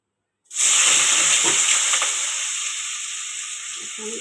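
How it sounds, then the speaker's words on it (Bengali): Sliced potatoes hit hot oil in a pan with a sudden loud sizzle after a brief silence, then keep hissing steadily while it slowly fades, with faint stirring knocks near the end. "আলু ভাজাটা করে নিই"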